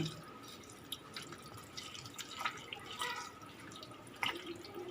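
A pot of water heats on the stove for boiling spaghetti, giving faint, irregular ticks, drips and small bubbling pops against a quiet background, with no talking.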